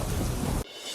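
Heavy rain and a roaring river in flood after a downpour at Sanghani in Abdasa make a loud, dense wash of water noise that cuts off abruptly partway through.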